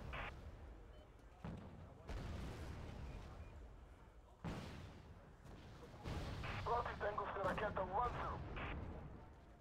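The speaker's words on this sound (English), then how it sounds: "Oh, that's AMX 13 firing, isn't it?" In the Wargame: Red Dragon video game, an AMX-13 tank fires, sending several heavy booming cannon shots and explosions through a loud battle soundscape, with someone talking over it.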